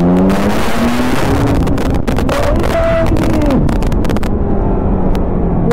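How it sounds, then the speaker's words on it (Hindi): A Kawasaki Z900 motorcycle engine revs hard on a race track, its rising and falling note close and loud but largely buried under heavy, constant wind roar on the microphone. "जहां हम भगाएंगे अपनी बाइक को"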